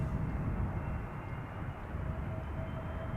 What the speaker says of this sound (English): We've got big jets coming in.